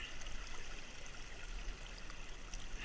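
A sluice box being lifted out of a stream lets water drain and trickle off it, a soft, steady, continuous splashing rush with no voices.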